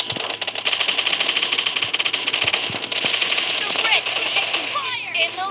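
Rapid automatic gunfire in PUBG Mobile, dense continuous bursts of shots with engine-like rumble beneath and voices chattering over the top.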